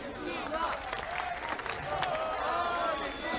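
A CS:GO world cup final crowd, Turkey against Argentina, roars and applauds in a dense, continuous wash of cheering that swells slightly toward the end, with a commentator's voice running over it.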